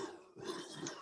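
A few rough, muffled coughs in quick succession, fairly faint and close.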